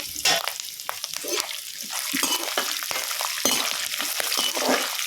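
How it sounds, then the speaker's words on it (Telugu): Peanuts fry in hot oil in a pan over a flame for a spicy puffed-rice snack mix, giving a steady close sizzle with crackling bursts and occasional stirring scrapes, no talk. "పల్లీలు బాగా వేగాలి."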